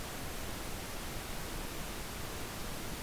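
A steady, loud wash of synthesized pink noise plays without a break, with two noise layers at different levels so the left channel is louder.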